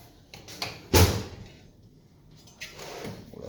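A drawer on a tool chest opens or shuts with one sharp metallic thump, and a softer sliding rattle follows later. It sounds close and stands alone, with no voices.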